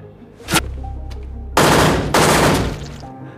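Loud gunfire from a film scene: a single sharp shot, then two long, dense bursts of rapid automatic fire, close and booming.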